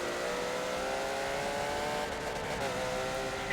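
Porsche GT3 race car in a racing video game on the Road America circuit, a continuous loud engine drone holding a steady pitch as it accelerates, with no talking.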